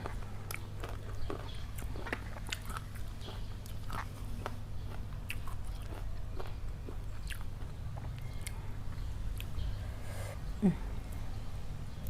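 Someone bites and chews crunchy green mango served with a sweet fish-sauce dip, producing steady close wet crunching and chewing noises throughout with a faint low background hum.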